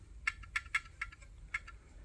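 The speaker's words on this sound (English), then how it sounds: "That's that rattling." A Leslie speaker's fast motor with worn washers and too much play gives off faint, irregular rattling clicks, about five or six sharp ticks in two seconds. The ticks sit close over a quiet low hum.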